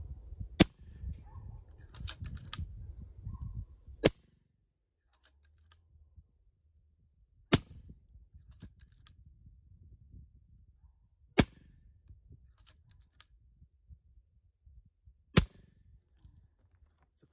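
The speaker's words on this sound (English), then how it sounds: "I'm gonna take a few shots just so you can see what our speeds are." An FX DreamTac Compact bottle-version air rifle fires five sharp, close shots over a chronograph, spaced about three to four seconds apart, with faint handling noise between them.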